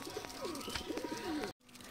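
Pigeons cooing at a feeding spot as food is put out in a loft with new chicks, soft repeated coos close by over steady background noise, cut off briefly near the end.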